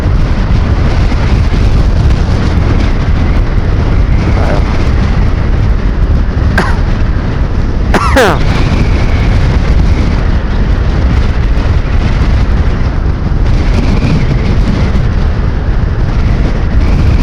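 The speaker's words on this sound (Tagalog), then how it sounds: "lakas ng hangin dito." Strong wind roars and buffets against the microphone without letup beside an open canal, a loud, continuous rumble with a couple of brief high squeaks.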